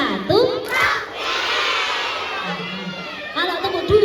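First and second grade pupils at a Ramadan school event clap once together and then let out a long collective shout, a loud crowd burst that trails off before a few more voices call out.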